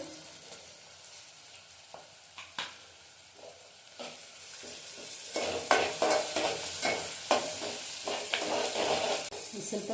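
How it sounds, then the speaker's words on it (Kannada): Onions fry in a pan for tomato kurma, a quiet sizzle with scattered stirring knocks that swells into a louder, busier crackle and scrape partway through. "ಈರುಳ್ಳಿ ಸ್ವಲ್ಪ ಫ್ರೈ ಆಗಿದೆ ಫ್ರೈ ಆದ್ಮೇಲೆ ಸ್ವಲ್ಪ ಜೀರಿಗೆ ಹಾಕ್ಬೋದು"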